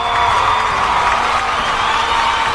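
A dense crowd cheering and whooping over sustained applause, loud and unbroken throughout, with a few shouts rising from the mass of noise.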